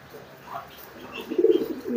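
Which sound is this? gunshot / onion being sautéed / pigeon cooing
pigeon cooing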